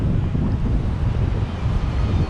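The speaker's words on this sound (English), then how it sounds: "I'm trying to block the wind" Wind buffets the microphone on a beach on Colombia's Atlantic coast at Tolú, a loud, constant low rumble that fills the whole moment without a break.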